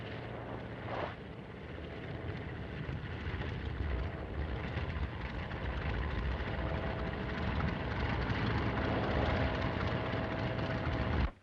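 Propeller airplane engine of a 1930s aircraft, a steady loud drone that holds continuously from start to finish with no talk over it.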